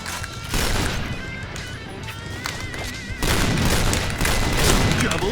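Rapid, loud gunfire and crashing impacts from the video game Point Blank, where a Cheytac M200 sniper rifle is in use, with dense overlapping shots and booms throughout and a heavier burst in the second half.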